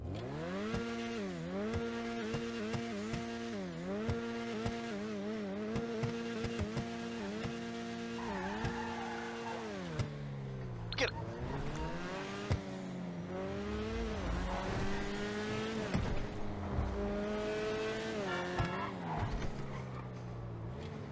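The Ocelot Locust sports car in GTA Online revs and accelerates through rising and falling engine notes, with gear shifts and tire squeals, loud and continuous without talk.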